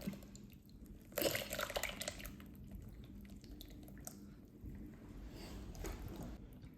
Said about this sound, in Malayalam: ഇനി നമ്മളൊരു വലിയൊരു അരിപ്പ വെച്ചിട്ട് നമുക്ക് നന്നായിട്ടൊന്ന് അരിച്ചെടുക്കാം.